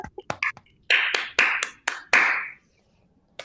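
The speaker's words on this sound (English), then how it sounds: "please join me in a round of applause for these poets" A handful of scattered handclaps from an online audience applauding poets at a book launch, a few sharp near claps and short bursts spread irregularly across three seconds before falling silent, with no voices.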